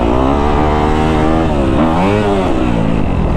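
A Kawasaki KX250F dirt bike engine revs loud and near, a continuous high buzzing four-stroke note that rises and falls in quick bursts, with no talk.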